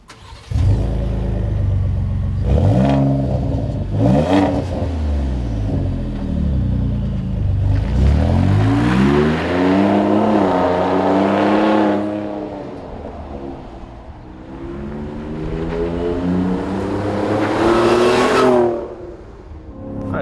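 A Ford F-150 Raptor with a Ford Performance dual rear exit sport cat-back exhaust and carbon fiber tips drives on the road, its engine rumbling and revving up loudly several times with long sustained acceleration pulls.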